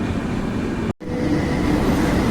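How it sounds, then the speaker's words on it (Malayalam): The Mangala Lakshadweep Express from Ernakulam to Nizamuddin pulls into platform 2 at Thalassery railway station in the evening, a loud, steady rumble of the train that cuts out for a moment before resuming. "മംഗള ലക്ഷദ്വീപ് എക്സ്പ്രസ് എറണാകുളത്ത് നിന്ന് പുറപ്പെട്ട് നിസാമുദ്ദീൻ വരെ പോകുന്ന ട്രെയിൻ ഇവിടെ ഇതാ തലശ്ശേരി പ്ലാറ്റ്ഫോം നമ്പർ 2ലേക്ക് എത്തിക്കഴിഞ്ഞു"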